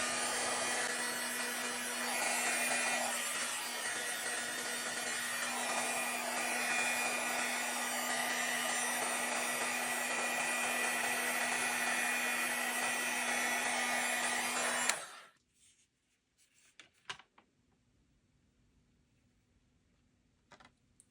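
A heat tool blows loudly and steadily for about fifteen seconds to melt embossing powder on a handmade card, then cuts off, leaving faint handling clicks and near silence.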